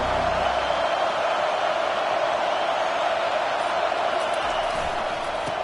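A stadium crowd at a football game roars as a steady, loud wash of massed voices and noise, unbroken throughout, with a commentator's voice partly mixed in.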